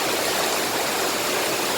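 Waterfall at Kalam in Pakistan's Swat Valley, a loud, dense, continuous rush of falling water filling the scene close by with no pauses.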